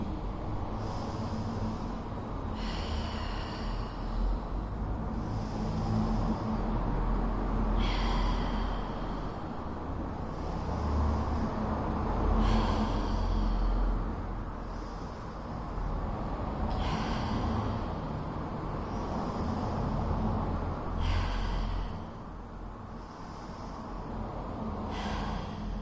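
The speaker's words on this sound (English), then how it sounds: "take some nice breaths in through the nose and out through the mouth" Deep breathing during a Pilates class, in through the nose and out through the mouth, with slow rhythmic inhales and exhales repeating every few seconds, soft and close over a quiet room.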